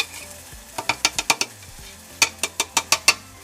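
Sweet and sour sauce ingredients for a fish dish being mixed in a bowl, heard as two quick runs of sharp, rhythmic utensil taps and scrapes against the container, close and alone over a faint background.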